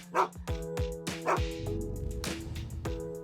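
Domestic dog barking in a quick series of sharp close woofs, a few yips and whimpering notes mixed in, with a humming background beneath.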